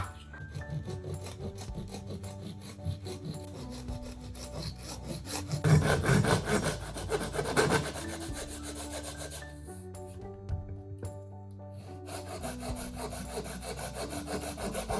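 A Japanese carpenter hand-saws wood while repairing a cat-damaged door at home, a close, steady run of rasping back-and-forth strokes with brief pauses and no talking.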